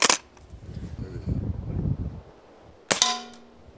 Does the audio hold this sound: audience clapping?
no